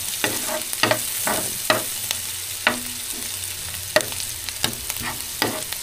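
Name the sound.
garlic frying and being stirred in a pan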